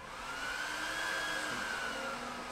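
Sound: cryptocurrency mining rig fans spinning up like a hairdryer

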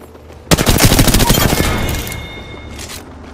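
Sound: gunfire in the video game Apex Legends

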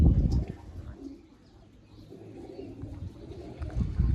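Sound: pigeons being released to fly

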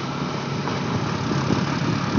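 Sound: Honda Shine 125cc motorcycle engine

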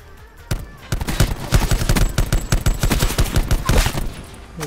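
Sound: gunfire in Call of Duty Black Ops 4 video game

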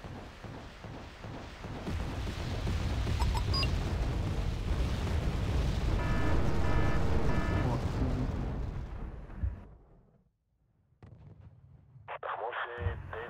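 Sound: weapon firing and explosions in video game Wargame: Red Dragon

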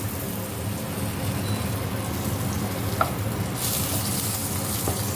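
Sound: eggplant frying in a pan

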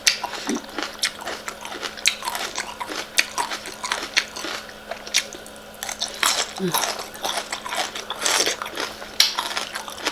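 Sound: crunchy biting of fresh corn salad

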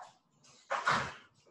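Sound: dog barking

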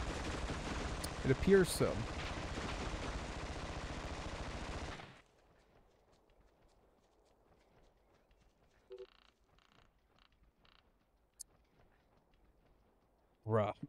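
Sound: gunfire in Tom Clancy's Ghost Recon video game

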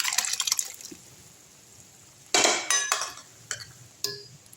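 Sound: pouring cooked lentils into a pot

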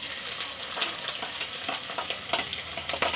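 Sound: onions added to hot oil, frying for veg manchurian

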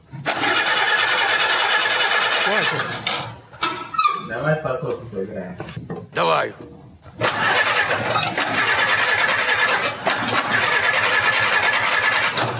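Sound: old jeep engine being started

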